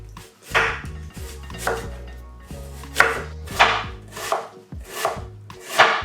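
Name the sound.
sharp knife thinly slicing onion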